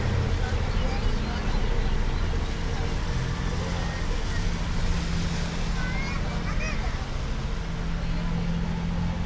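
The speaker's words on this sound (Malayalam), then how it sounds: "അങ്ങനെ നമ്മൾ ഹൗസ് ബോട്ടിനെ ഓവർടേക്ക് ചെയ്തു" Boat engine droning steadily and fairly loud while overtaking a houseboat on the Alappuzha backwaters, a continuous low rumble mixed with water and wind noise throughout, with faint voices in the background.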